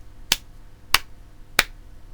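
Three sharp, evenly spaced hand claps, close and crisp, each a single distinct strike with quiet pauses between, no talking.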